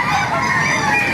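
Roosters and hens at a Baliuag outdoor market, kept as Gray Hatch and Sweater gamefowl, give off a brief, loud nasal honking and crowing call, close by and sustained for about a second.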